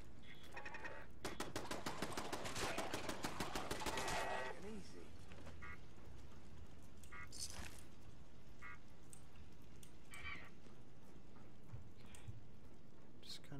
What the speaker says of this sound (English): The pipe rifle.